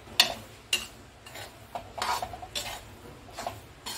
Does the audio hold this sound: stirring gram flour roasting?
yes